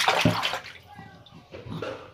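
A baby splashes and sloshes water while bathing in a grandmother's sink, with bursts of splashing at the start and again near the end, quieter in between.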